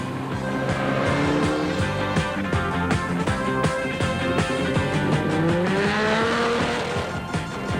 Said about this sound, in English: The roar of racing engines and high-powered machinery tackling the elements